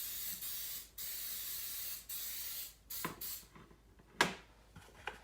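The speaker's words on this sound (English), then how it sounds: "go ahead and spray us this little casserole dish" Several short bursts of coconut oil cooking spray hissing close up onto a small casserole dish, each lasting about a second, followed by a few light clicks and knocks.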